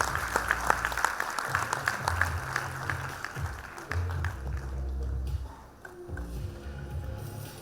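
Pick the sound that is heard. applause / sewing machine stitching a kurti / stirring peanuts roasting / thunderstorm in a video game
applause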